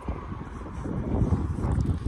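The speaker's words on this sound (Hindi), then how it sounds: "हवा चल रही है बहुत" Strong wind buffeting around a Scorpio on a ring-road bypass, a loud, continuous low rumble and roar with no clear breaks.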